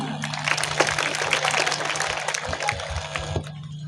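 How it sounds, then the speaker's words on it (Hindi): An audience at a village school function applauds in a steady patter of many hands, moderately close and lasting a few seconds, with a low electrical hum running underneath. "तालियां"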